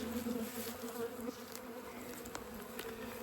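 Honeybees buzz steadily inside an open hive as a queen walks beneath the comb, a dense, continuous insect drone held close and fairly loud throughout, with no speech.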